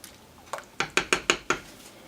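A metal spoon stirs garlic and organic sweet onions in a pot for vegetarian beans and lentils, giving about six sharp, close clinks against the pot in quick, uneven succession, with no talking.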